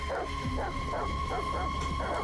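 Dogs bark in a tense raid scene of the video game Detroit: Become Human, a series of four or five fairly spaced barks at moderate distance over a steady low game hum.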